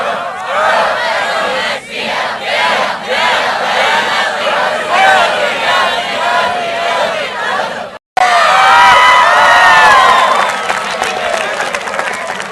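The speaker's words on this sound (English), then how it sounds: "Maybe it's the RO cheer." A graduation crowd at a high school ceremony roars and shouts a school cheer, loud and dense with overlapping voices, whoops and rising yells, dropping out briefly near the end before surging back even louder.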